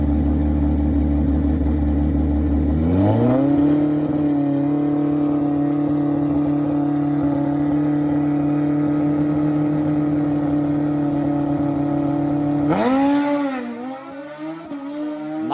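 Drag bikes, a nitrous Hayabusa and a BMW S1000RR, launch hard down the strip, their engines howling loud and steady as they climb through the gears, then a fresh rising surge near the end.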